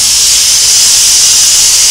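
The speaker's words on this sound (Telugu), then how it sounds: "ఇందులో ఆయిల్ వేడైందండి, జీలకర్ర ఆవాలు వేసుకున్నాను" Cumin and mustard seeds sizzle in hot oil with a steady, loud, close hiss that holds evenly throughout.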